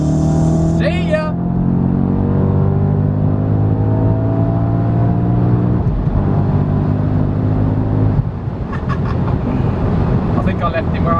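A supercharged Audi RS4 pulls hard, the engine's tone climbing steadily through several long sweeps of loud, continuous drive noise, with short breaks between pulls and brief talking near the start and end.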